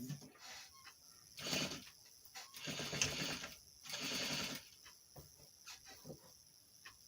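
Home sewing machine stitching the seams of simple boxer shorts with a half-inch seam allowance, running in several bursts of steady whirring mechanical stitching separated by short pauses, close and moderately loud.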